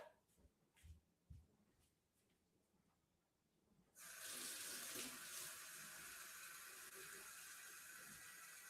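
Water gushes steadily from a tap, starting abruptly after a few seconds of quiet room sound with a few soft knocks, then running loud and continuous to the end.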